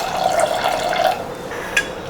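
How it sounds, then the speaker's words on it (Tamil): Water splashes steadily into a pressure cooker holding roasted lentils for a traditional payasam, a short close pour that fades out partway through. "பருப்பு முழுகிற அளவுக்கு தண்ணி ஊற்றிக்குங்க"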